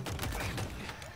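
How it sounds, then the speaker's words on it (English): A disruptor pistol in the shooter game Halo Infinite fires a quick burst of several close, sharp shots in rapid succession, loud and alone. "This pistol is no joke."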